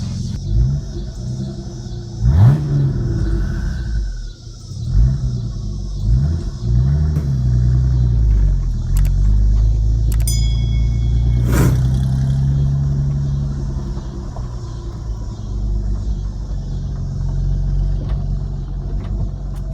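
A twin-turbo 3800 Camaro rumbles close up from inside, its engine revving in several rising pulls between gear changes, then settling into a steady low drone as it cruises.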